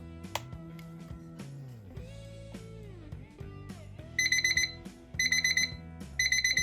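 A DS-3618L mirror alarm clock sounds, first a tonal electronic melody, then shrill, rapidly pulsing beeps repeating in three loud bursts.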